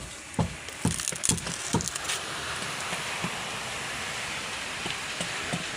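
Rain falls outdoors where carpenters are dismantling the walls of a boat, a soft, even patter with a few sharper knocks early on before settling into a faint, continuous hiss.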